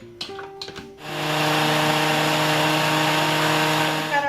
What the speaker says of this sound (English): This is where you put your onion, the quarter of an onion, and the 3 garlic cloves, and you blend it really good.